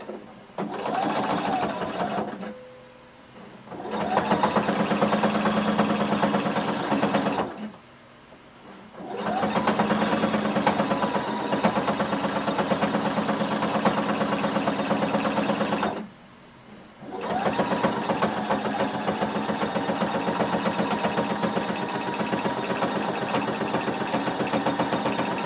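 A sewing machine stitches close to the edge through all layers of a jumpsuit, running loudly in three long steady bursts separated by brief pauses, near and alone.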